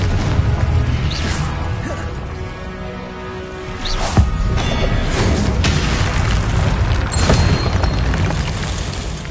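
Confringo blasting spell from Hogwarts Legacy on PS5 setting off loud explosive booms, with several sharp bursts and crashes over a dense, rumbling game soundscape.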